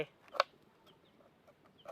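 A backyard-raised chicken gives a single short cluck, faint and brief, against an otherwise quiet farmyard background.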